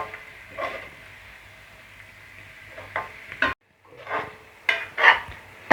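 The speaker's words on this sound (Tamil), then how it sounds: "தக்காளியும் புதினாவும் நல்லா கரைஞ்சி வர வரைக்கும் நம்ம வதக்கிவிட்டே இருப்போம்." Tomato and mint sauté in a pan for a soya chunk biryani, with intermittent spatula scrapes and bursts of sizzling between quieter stretches, close and moderately loud.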